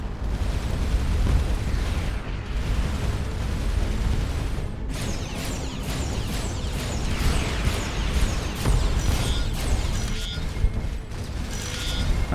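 Enemy gunfire and explosions from the space game Starcom: Unknown Space, with dense booming blasts and a rapid series of sharp zapping shots and pops, loud and continuous.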